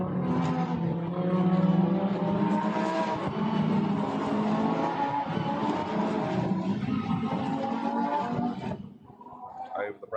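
Race cars at Spa run bunched behind the safety car, their engines making a loud, sustained roar that fades near the end, with a commentator talking over it.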